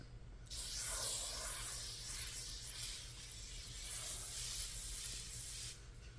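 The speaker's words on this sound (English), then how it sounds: "And it's just a super fine mist, kind of like aerosolized." Two bursts of fine facial mist hiss from a spray bottle onto skin, soft airy sprays close by in a quiet room, with no talk.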